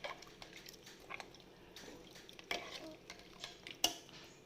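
A ladle stirs vegetables and spices for Kerala sambar in a pressure cooker, giving soft, irregular scraping and occasional sharp metal clinks against the pot, fairly faint and without talk.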